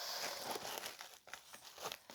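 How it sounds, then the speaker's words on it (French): A plastic-wrapped item slides back into an envelope, giving a brief, faint crinkling and rustling of plastic and paper close to the microphone. "je le remets dans l'enveloppe"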